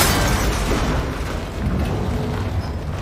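In Horizon Forbidden West, a cable connector bursts apart after being shot, a single dense, rumbling boom that fills the short clip with no speech.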